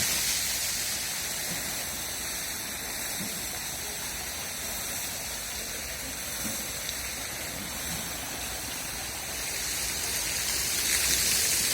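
Continuous rushing water with a steady hiss, like a fountain or stream splashing nearby, unchanging throughout with no talking.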